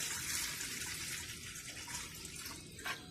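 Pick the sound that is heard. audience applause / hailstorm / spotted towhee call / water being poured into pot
water being poured into pot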